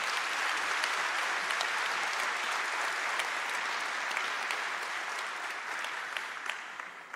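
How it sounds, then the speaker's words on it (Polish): Sustained applause from an audience at an anniversary ceremony for a regional self-government, a steady dense clapping that stays loud throughout and fades slightly toward the end. "Państwa prosimy teraz właśnie o oklaski."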